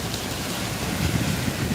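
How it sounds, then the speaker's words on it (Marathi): Steady rain pours outdoors in a dense, even hiss with a low rumbling undertone, close and unbroken throughout. "बघा किती पाऊस पडतो इकडं"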